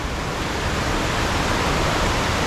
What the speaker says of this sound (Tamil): Tunnel water falls.